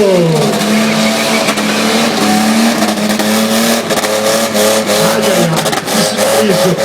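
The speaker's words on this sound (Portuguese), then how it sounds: "Tá acelerando. Vai acelerando. Sobe o giro." A loud motorcycle engine revs continuously at a motorcycle festival, its pitch rising and falling in sweeping waves, close and dominant throughout.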